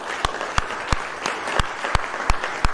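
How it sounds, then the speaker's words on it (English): An audience at a precious metals panel discussion applauds the panelists, a sustained wash of clapping with distinct sharp claps recurring in a steady rhythm, moderately near. "please, if I could ask everyone to give a round of applause for our panelists"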